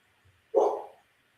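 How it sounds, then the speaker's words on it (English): A pet dog gives a single short, close bark in an otherwise quiet room. "I don't know why my dog's barking"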